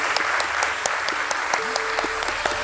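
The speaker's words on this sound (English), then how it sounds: "Let's have a huge round of applause" Dense, steady applause fills the hall at a BSE stock exchange listing ceremony for DAM Capital Limited, many hands clapping at once without a break, with faint voices beneath.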